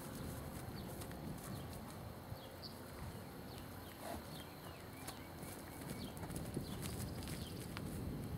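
A jerky, powerful horse being ridden without reins, its hooves clip-clopping faintly and steadily in the distance beneath constant outdoor background noise.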